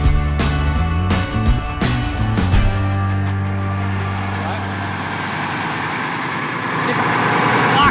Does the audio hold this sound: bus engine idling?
yes